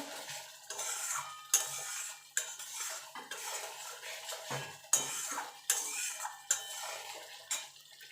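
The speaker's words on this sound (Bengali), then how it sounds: "লবণ দিয়ে একটু নাড়াচাড়া করে নেব" Spices and salt stirred in a pan of oil for a hilsa fish curry: a series of close, rhythmic metal scrapes and clinks of a spoon against the pan, with faint sizzling underneath and no speech.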